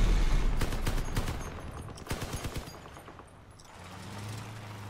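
Gunfire in the vehicle combat game Crossout: several rapid bursts of shots, moderately loud, fading toward the end as a low engine-like hum takes over, with no talk.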